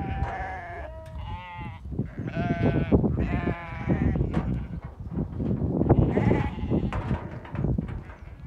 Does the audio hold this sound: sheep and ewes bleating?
yes